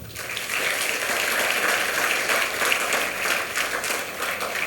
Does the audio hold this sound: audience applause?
yes